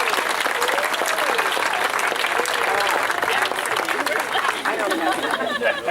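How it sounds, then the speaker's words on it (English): A crowd applauds for Junior Fair Queen contestants at the Lee County Fair, steady dense clapping throughout with chatter and voices underneath. "How about a round of applause for all of our Junior Fair Queen contestants again"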